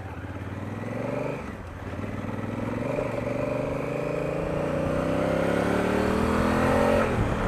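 A Honda Africa Twin motorcycle pulls away in first gear with traction control and ABS off, its engine rising steadily from a low rumble into a strong, continuous rev that builds in loudness close by.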